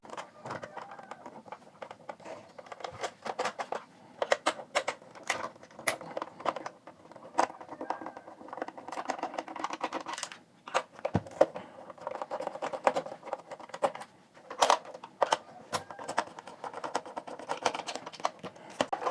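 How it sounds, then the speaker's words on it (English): The four battery housing screws are being taken out of a Philips Trishul RL118 radio, producing a run of small close clicks, scrapes and plastic taps that come in irregular bursts with brief quiet gaps. "So let me take out the 4 screws."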